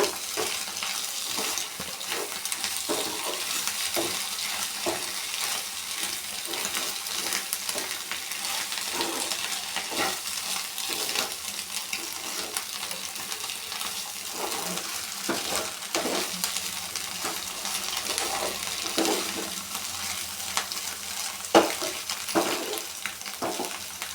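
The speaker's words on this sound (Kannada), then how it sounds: "ಈಗ ಎರಡನ್ನೂ ಮಿಕ್ಸ್ ಮಾಡಿ ಫ್ರೈ ಮಾಡೋಣ" Potatoes and coriander stirred and fried together in a pan for an aloo fry, with a continuous loud sizzle and repeated scraping stir strokes at an irregular rhythm and no talking.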